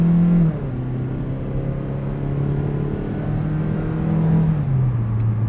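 A car with a knocking engine drives along a road, its low engine drone steady and close with a slight pitch drop early on and again near the end, with no voices.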